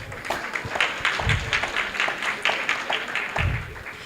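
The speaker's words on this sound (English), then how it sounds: "Can you please give them a round of applause?" An audience claps at an annual meet and greet, a dense patter of many hands holding at moderate loudness for several seconds.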